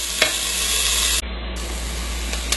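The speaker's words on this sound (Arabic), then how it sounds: "سخنت الزيت وضفت البصل" Chopped onion frying in hot oil in a pan while cooking maqluba, a steady close hiss and sizzle with a brief stirring clatter near the start and a sudden dip partway through before the sizzling carries on.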